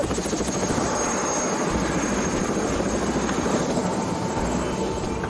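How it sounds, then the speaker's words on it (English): A helicopter roars steadily and loudly throughout, its rotor chopping continuously as if heard from inside the cabin. "We jumped into a helicopter and off we went"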